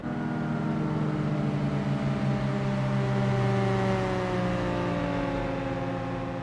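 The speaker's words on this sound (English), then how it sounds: "The RX-7 sounds gorgeous." Mazda RX-7 rotary engine in Gran Turismo 4, a steady loud drone with several rising and falling tonal harmonics that hold through the whole stretch, with no pauses and no voices.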